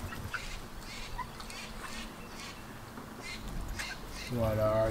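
A child imitates a duck with a voiced quacking call near the end, after a stretch of faint background noise and soft voices outdoors in a garden.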